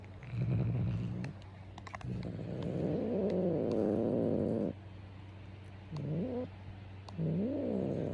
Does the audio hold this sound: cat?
yes